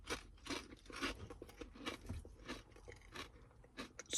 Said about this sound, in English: So crunchy. I like the kettle cook. Extra freaking crispy.